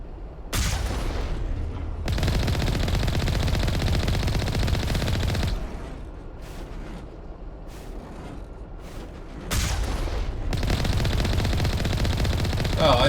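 Sustained loud automatic gunfire in the video game Mass Effect 1, long continuous bursts broken by a quieter stretch with scattered single shots, then another heavy burst.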